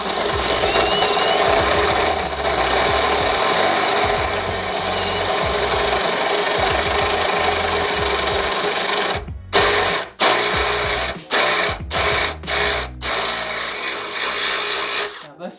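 A power drill runs on car parts from a BMW E46 or Jeep Cherokee XJ, a loud rasping grind held for several seconds, then cut into a quick series of short stop-start bursts.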